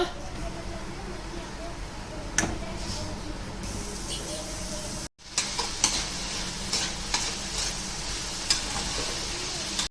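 Cabbage stir-fried in a pan with a little turmeric, a continuous close sizzle with repeated spatula scrapes and clicks, broken by a brief cut of silence midway; no clear voice.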